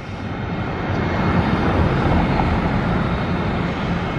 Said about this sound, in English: I absolutely love the sound of the engine spooling up and the buzzsaw sound